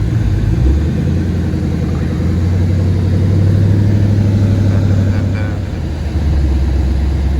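A 1500 WHP Ford Mustang engine rumbles loudly and close as the car pulls away, a deep steady drone with a brief dip in level before it picks back up, no talking heard over it.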